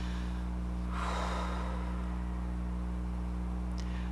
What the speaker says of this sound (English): take a breath in and an exhale